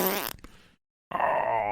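A voice imitates a long, crude fart, a drawn-out groaning rasp that cuts off, followed by a brief silence and then another sustained noisy blast.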